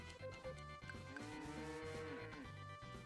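A cow in the Story of Seasons farming game gives a long, drawn-out moo with a wavering pitch, heard clearly over soft background game music.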